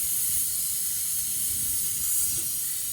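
Air hisses steadily against an air conditioner compressor, a loud, continuous close-up rush with a faint low rumble underneath and no pauses.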